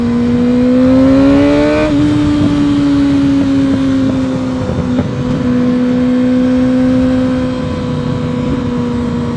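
Kawasaki ZX-6R 600 sport motorcycle engine under way, a loud steady drone that climbs briefly in pitch and then holds a sustained cruising note, with wind rush throughout and no talking.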